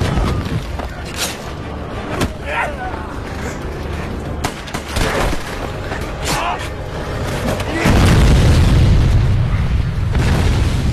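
Heavy booming blasts of a landmine explosion with sharp bursts and crackling debris, ending in a sustained roaring rumble of a large explosion.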